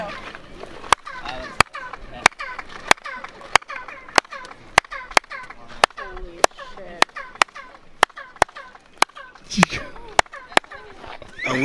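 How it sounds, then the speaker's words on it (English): Sharp handclaps echo off the stepped pyramid of a Mayan temple, each returning as a chirped, bird-like call; about sixteen evenly spaced claps repeat, with voices talking in the background. "But when it comes out, it will be equal to the song of a bird."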